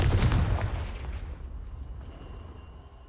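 Spell explosions from Hogwarts Legacy burst out loud and booming at the start, then fade into a long rumbling decay.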